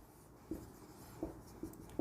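Faint pen strokes while writing out trigonometry working: four short soft scratches at uneven intervals against a quiet background, with no speech.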